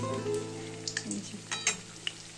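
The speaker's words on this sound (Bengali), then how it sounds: "ভাজা হয়ে যাওয়ার পর সোনাই খাবে।" Food fries in a pan with soft, scattered crackles and pops over a low, steady background hum, fairly quiet and close.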